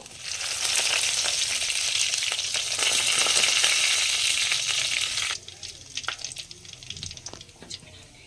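Curry leaves crackle and sizzle loudly in hot oil for a village-style katla fish curry, a steady dense frying hiss that drops suddenly to quieter, intermittent spitting and sizzling in the last few seconds.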